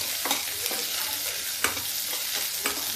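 Onions stir-fried in a pan for a home-cooked palak dish: a steady bright sizzle with a few sharp scraping stirs of the spoon, close and loud, no talking.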